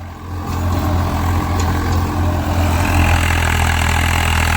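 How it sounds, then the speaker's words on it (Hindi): A Swaraj 855 tractor driving a Terrasoli rotavator runs loud and close, its engine a steady, heavy low drone with a constant mechanical rumble and no pauses. "तो भाई परफॉर्मेंस देख लो ट्रैक्टर की कैसी है।"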